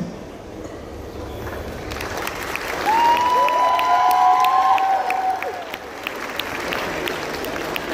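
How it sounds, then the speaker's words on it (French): An audience at a cosplay contest in Châteauroux applauds for performers who went on stage, sustained clapping that swells in the middle with scattered cheers and a whistle, then settles back to a steady patter. "Applaudissez une nouvelle fois bien fort tous nos cosplayers qui ont eu le courage de monter sur scène"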